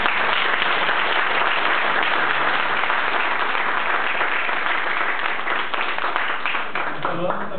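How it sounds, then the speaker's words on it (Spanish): An audience applauds at a ceremony honouring Leonardo León Solís, with dense, sustained clapping that stays loud and even from start to finish. "Saludamos con un cordial aplauso al señor Sergio Villalobos"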